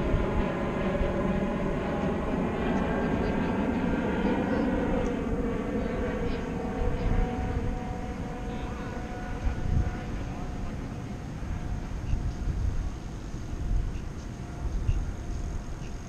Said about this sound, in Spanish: aviones en el aire otra vez.